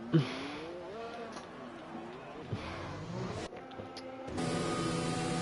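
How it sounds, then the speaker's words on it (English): F1 cars in a sim racing game at Spa, heading onto the track for qualifying. Several engines whine and rise in pitch at moderate distance, with a commentator talking over them. "As the drivers come out onto the track for their first run at qualifying"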